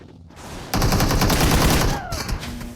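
Rapid bursts of automatic gunfire in PUBG Mobile, loud and dense for about a second and a half, then thinning into scattered shots and fading game effects.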